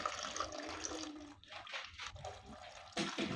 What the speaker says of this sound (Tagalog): release po tayo ng pressure dito sa may gripo